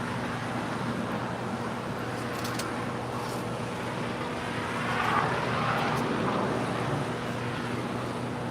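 Giants 532, an airliner arriving from Anchorage, lands at LAX with a broad, steady jet roar heard from a distance that swells briefly midway before settling back into a constant rumble.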